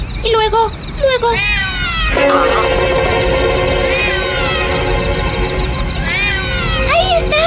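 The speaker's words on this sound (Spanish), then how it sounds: "¿A dónde está mi gato?" A cartoon cat in an animated Babar episode meows and caterwauls repeatedly, loud and close, with long wavering cries and voices talking alongside.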